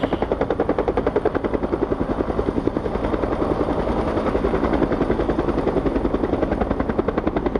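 Firefighting helicopter hovering with a water bucket on its line during the 1994 Laguna Beach fire, a loud, steady rhythmic rotor chop with turbine whine filling the whole stretch alone.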